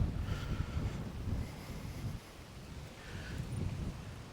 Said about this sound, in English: Kind of a windy day today.